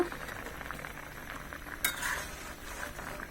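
Eggplant curry with jackfruit sizzles and fries in a pan over a medium flame, a soft continuous crackle broken by one sharp clink of a utensil against the pot.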